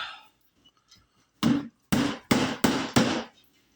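A worm bin being knocked to dump out worms: five loud, hollow thumps in a quick, fairly even rhythm, close by, after a few faint taps, with no talking.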